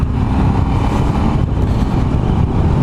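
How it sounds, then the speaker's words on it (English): A Ducati Multistrada 1100S adventure motorcycle's big air-cooled V-twin engine runs close and loud, a steady, dense low rumble with no pauses and no voices. "Big old air-cooled engine."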